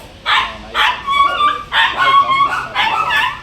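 Dogs and puppies bark at a kennel on a dog farm, several loud yelping bursts close by in quick, uneven succession with short gaps between them.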